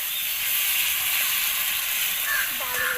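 Chopped local tomatoes sizzling with spices in a pan for a village-style pointed gourd and prawn curry, a steady loud hiss throughout with faint higher crackles toward the end and no voices.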